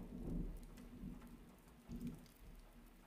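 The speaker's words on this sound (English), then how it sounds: "Joaquin, the chances of them surviving such a storm are extremely slim" Steady rain from a storm in a video game, a soft, continuous wash of falling water with low rumbling swells, heard alone at a fairly faint level.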